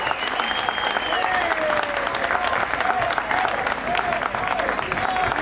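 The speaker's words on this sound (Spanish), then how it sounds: "Fuertes los aplausos, señoras y señores, para el grupo Aracatú" An audience at a lakeside festival applauds the group Arakatú with dense, continuous clapping, while a thin whistle and a few voices rise over the applause.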